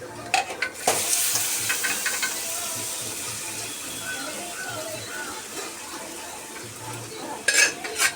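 Mutton pieces fry in a pan for mutton chukka, with a continuous sizzle under scraping and clinking as they are stirred. A louder clatter of utensils comes near the start and again near the end.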